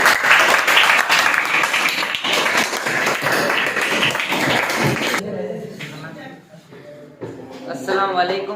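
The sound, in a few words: audience applause for a speaker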